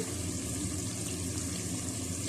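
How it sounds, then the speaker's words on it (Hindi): A continuous rushing stream of water pours steadily into a pot of fried mutton and spices, close and even throughout the short stretch. "अब यहाँ पर हम पानी ऐड कर लेते हैं।"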